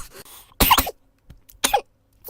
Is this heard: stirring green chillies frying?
no